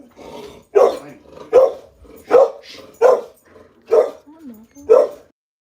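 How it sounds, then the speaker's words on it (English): A dog barks loudly and close by in a home, giving about seven sharp barks at roughly even intervals with a couple of softer whines and growls between them, and nobody speaking. "Yes, that is my dog."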